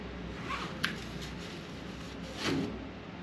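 The front pocket zipper on a pair of trousers is zipped, giving a couple of short, soft raspy pulls close up against a quiet background.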